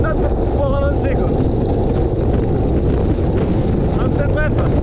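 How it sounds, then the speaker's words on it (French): Strong, roaring wind buffets the microphone continuously while cycling downhill, loud and dense throughout with no pauses. "Vous pouvez croire que ça va vite dans la descente, mais là, il y a du vent."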